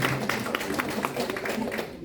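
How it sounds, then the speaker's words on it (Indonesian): Audience clapping, scattered and uneven with individual claps standing out, fairly faint and brief, with a voice talking underneath. "Tepuk tangan dong buat Zellner."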